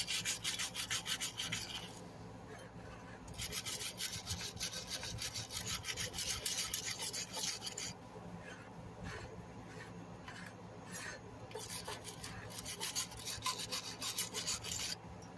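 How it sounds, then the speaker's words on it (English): Sandpaper rubs by hand on a lawn mower part, quiet rapid scratchy strokes in bursts separated by short pauses, close and faint with no voices. "Maybe that'll come off with sandpaper."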